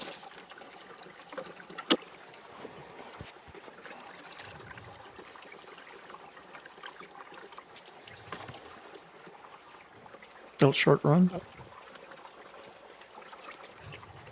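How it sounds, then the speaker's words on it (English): Water trickles steadily through a Mining Magnets cleanup sluice while gold paydirt tailings are reprocessed, a soft continuous flow with a brief louder splash and clatter near the end, faint talk in places. "I'm running it through the Mining Magnets cleanup sluice, which I've come to rely on."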